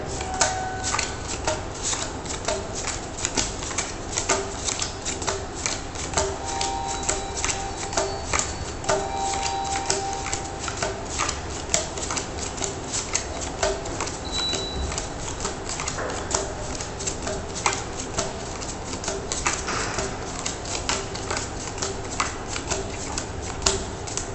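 Playing cards are flipped and dealt one after another during a card trick, giving a steady run of close, crisp snaps and soft slaps with no talking.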